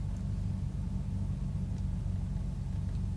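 A Volvo 940 on its first drive after a differential and drive shaft replacement gives a low, steady engine and road rumble from inside the car, fairly quiet and even, with no speech.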